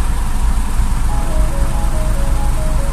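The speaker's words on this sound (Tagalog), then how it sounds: "So ito na nga guys, traffic." Steady road traffic in Manila, a constant dense rumble of engines with no single vehicle standing out, broken only by faint tonal whines in the background.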